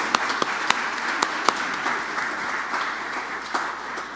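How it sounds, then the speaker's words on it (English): An audience at a day-of-action event claps in a steady round of applause, a continuous crowd wash punctuated by a few sharp, close individual claps standing out near the start. "So let's give a round of applause for all the people who are stepping up."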